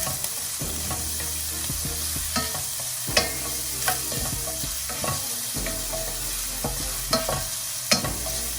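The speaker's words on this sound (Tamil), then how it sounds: "ஆனியன் போட்டு ரொம்ப கோல்டன் ப்ரௌனாக வரணும்னு அவசியம் இல்லை, லைட்டாக அந்த பிங்க் கலர் வந்தாலே போதும்" Sliced onions sizzle steadily in a hot pan while a spoon scrapes and stirs at irregular intervals, the frying close and continuous with no talking.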